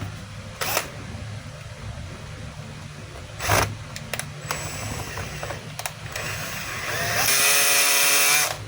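A DeWalt DCE100N cordless blower starts up near the end, a loud steady whooshing roar after a series of sharp clicks and knocks from handling.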